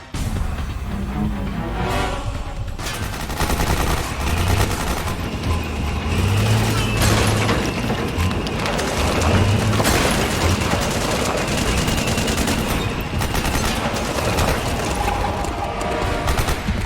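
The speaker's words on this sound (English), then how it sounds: "Stop shooting me." Sustained bursts of automatic gunfire aimed at the player in Metal Gear Solid 4, loud and dense with rumbling vehicle noise underneath, continuing for the whole stretch.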